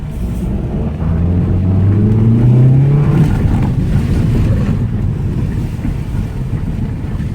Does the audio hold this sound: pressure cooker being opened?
no